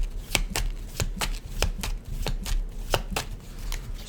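A deck of tarot cards being shuffled, with a rapid series of crisp riffling flicks repeating steadily at close range, alone without any talk.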